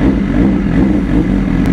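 A BMW S1000RR superbike engine runs loud and close with a steady, throaty rumble, holding a constant high-volume drone throughout with no voices.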